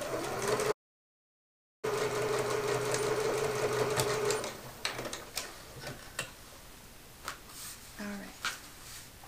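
A sewing machine stitches down the side of a commuter tote bag accent panel, a fast steady mechanical chatter for the first several seconds that gives way to sparse clicks and handling, with someone talking over it.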